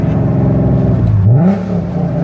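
A VW MK6 with a swapped 3.6 VR6 engine and 4Motion drive hums steadily while driving, its pitch dipping and then climbing sharply in a short rev before settling, heard close from inside the car.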